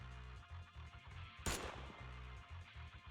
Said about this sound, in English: The sound of gunfire rings out and a barrage of bullets fly towards the two of them.